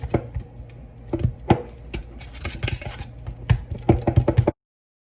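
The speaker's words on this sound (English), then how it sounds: "So you need to whisk this to make this fluffy" A hand whisk beats butter in a bowl, producing close, irregular clicking and tapping strokes against the bowl that stop abruptly at the end.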